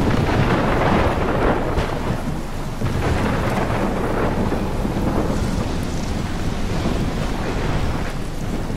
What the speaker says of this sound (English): I've never seen a storm like this in Ulnarku.